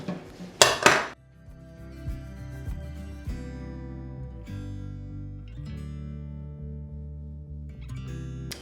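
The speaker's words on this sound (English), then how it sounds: "So this I'm gonna put in the sink. I'm just kind of washing these." Dishes, pots and cutlery clatter and clink in a kitchen sink while being washed by hand, with a burst of splashing water near the start followed by scattered knocks and scrapes of cookware.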